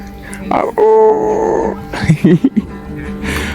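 A husky at a husky park in Moscow grunts and gives low growling vocalizations close by, mixed with people talking and background music.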